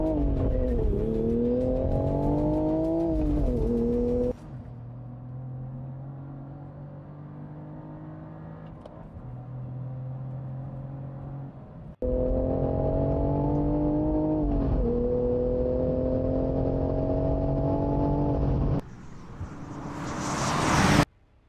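Three rear-drive sports cars, a 2023 Cadillac CT4-V Blackwing, a Toyota GR Supra and a Nissan Z, drag race from a dig with loud, sustained engine roars and rising revs through gear changes, a lull, then another full-throttle run.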